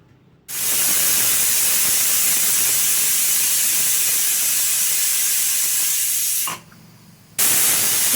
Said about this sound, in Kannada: ನೋಡಿ, ಒಂದು ವಿಷಲ್ ಆಗಿದೆ